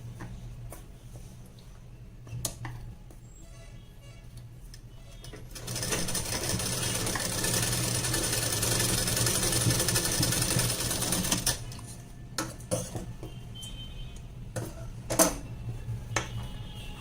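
A sewing machine stitches darts into a blouse, running in one continuous whirring burst of about six seconds. Scattered clicks and handling taps come before and after, all close by under a low steady hum.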